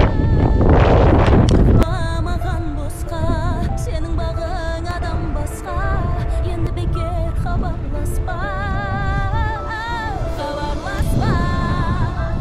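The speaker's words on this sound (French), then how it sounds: "Ce matin il y a quand même beaucoup de vent." Strong wind buffets the microphone on the open Kazakh steppe in western Kazakhstan, with a loud rushing gust at the start, then a steady blustery roar continuing throughout.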